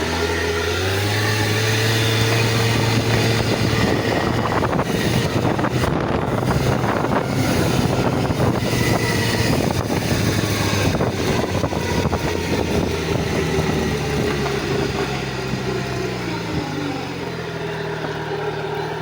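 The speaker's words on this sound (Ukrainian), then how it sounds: "Холості тримає, підшипники чути" A scooter engine idling after an overhaul, a loud, steady, buzzing drone with a rough mechanical whir from worn bearings running continuously throughout, close to the microphone and with no talking.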